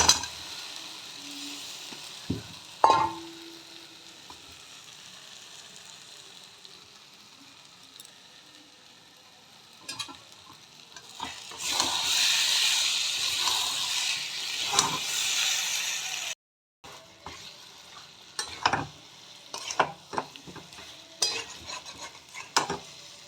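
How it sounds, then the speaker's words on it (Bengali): Hot oil hisses and crackles with occasional spatula clanks; the sizzle swells loudly midway as fried new winter potatoes go into the pan, then settles. "এবার আমি একটু করে আলুগুলো দিয়ে দেবো যে ভাজা আলুগুলো রেখেছিলাম"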